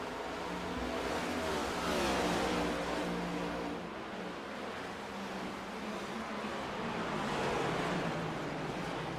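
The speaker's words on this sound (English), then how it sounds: "Listen to these cars rip it around here at Gateway." Race cars roar around the Gateway speedway in the iRacing Wheels America Cup Series, a steady, broad engine rush that swells and fades as cars pass, with no talk over it.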